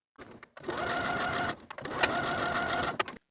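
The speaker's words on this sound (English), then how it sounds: "Then we'll stitch from one edge to the other with a 3/8 inch seam allowance" A sewing machine stitches a binding strip with a 3/8 inch seam allowance in two quick whirring bursts separated by a short pause, close and fairly quiet.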